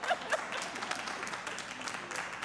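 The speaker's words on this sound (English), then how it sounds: "give yourself a round of applause for being here" An audience at a talk on generosity applauds, a soft, fairly distant patter of many hands clapping with a few louder claps near the start, accompanied by faint voices.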